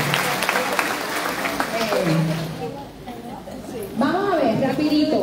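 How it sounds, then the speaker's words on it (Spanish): A congregation at a catechism gathering at the Perpetuo Socorro diocesan sanctuary in Quebradillas, Puerto Rico, claps at the start, then the applause fades as a voice talks over it. "esto es un aplauso para ustedes"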